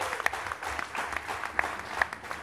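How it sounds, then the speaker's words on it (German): Festival audience applause at the close of the 32nd Wacken open-air metal festival, a steady wash of clapping with a few sharper claps standing out, moderately distant and continuous throughout. "ein riesen Applaus für alle"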